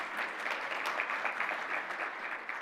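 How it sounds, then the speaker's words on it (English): An audience at an honors brunch applauds in a steady, fairly faint patter of many hands clapping, continuous for a few seconds with no talk over it. "Tom, yes, applaud away."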